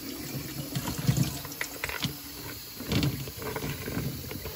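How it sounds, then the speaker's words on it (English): Potatoes tumble into an over-sink strainer in a home kitchen, giving a busy stretch of knocks, rattles and wet clatter at close range, fairly loud, with no talking. "We can just dump them all in."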